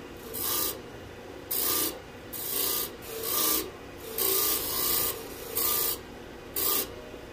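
A lathe tool cuts a turning maple wood box in repeated rasping bursts of scraping and shaving, each lasting roughly half a second to a second with short gaps, close and fairly loud.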